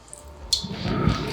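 Thick tomato pasta sauce plops and squishes as it is poured into a baking dish for pasta alla Norma, a short, close, wet glugging sound that builds over about a second.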